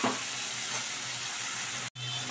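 Fried taro and potatoes sauté in a spice masala with a continuous close sizzle and hiss, broken by a brief drop-out near the end.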